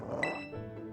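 A Pokémon in Pokémon Scarlet gives one short, throaty, dog-like bark, a single close yelp lasting well under a second.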